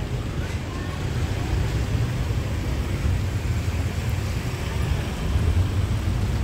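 Rush hour street traffic at Tha Phae Gate in Chiang Mai, Thailand, makes a dense, continuous low roar of engines and road noise, steady and fairly loud throughout with no distinct individual passes.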